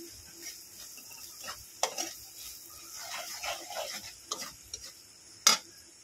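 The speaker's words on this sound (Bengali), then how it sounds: "জিরে গুঁড়োটা একটু দেবো আরও, দিয়ে ভালো করে এবারে মশলাটাকে কষিয়ে নেব।" Spice masala with cumin powder frying in oil for a rohu fish curry, a faint, low sizzle with soft intermittent stirring scrapes and a few sharp ladle taps against the pan.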